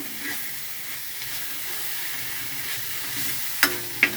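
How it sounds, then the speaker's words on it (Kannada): Chili powder fries in hot oil for a simple moong dal sambar, giving a steady close sizzle and hiss with two sharp clicks of a spoon against the pan near the end. "ಈ ಥರ ನೋಡಿ ಎಣ್ಣೆಯಲ್ಲೇ ಫ್ರೈ ಮಾಡಿಕೊಂಡು ಮಾಡ್ಕೊಬೇಕು"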